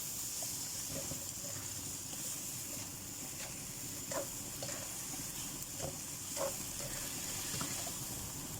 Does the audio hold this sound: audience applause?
no